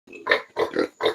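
Pigs kept by Toraja people for customary ceremonies grunting close by in three or four short, rough bursts with brief pauses between them.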